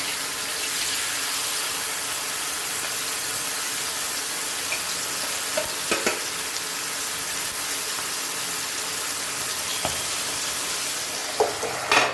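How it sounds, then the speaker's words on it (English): Goan mussels cafreal frying in a pan, giving a continuous close sizzle with faint occasional stirring clicks and pops throughout. "now let us fry this"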